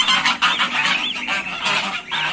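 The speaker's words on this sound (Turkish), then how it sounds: "Şu küçük kazlarımı dövüyor büyük kazlar." Several geese honk loudly and harshly over each other in a continuous, agitated squabble, close by, with no pauses.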